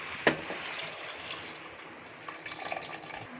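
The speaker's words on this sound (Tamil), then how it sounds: "தண்ணியை ஆட் பண்ணிக்கலாம்." Boiled chickpea cooking water is poured into a pan of channa masala, giving a faint, soft liquid splash and gentle pouring wash after a brief clink at the start, close by and quiet.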